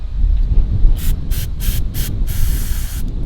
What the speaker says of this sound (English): Spray your fluid in there.